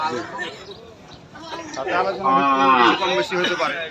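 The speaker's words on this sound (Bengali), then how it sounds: "প্রথমের এই গরুটা" A bull at a city cattle market in Rajshahi gives a loud, close, drawn-out moo that swells in the second half, over faint crowd murmur.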